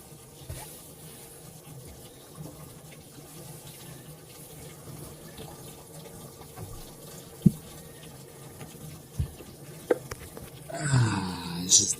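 A bilge pump drives water out of a boat's bilge in a constant rushing, gurgling flow, with a few sharp knocks and a louder splashing gush at the very end.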